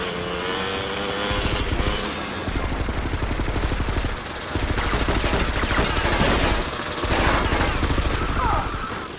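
Rapid gunfire from the Vice City video game during a chase: bursts of shots crackle over a dense, loud mix of game music and engine noise, running steadily for about nine seconds.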